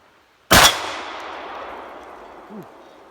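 One loud, close gunshot hits a metal gong with a sharp crack, leaving a long, clanging ring that slowly dies away. A brief faint chirp sounds near the end.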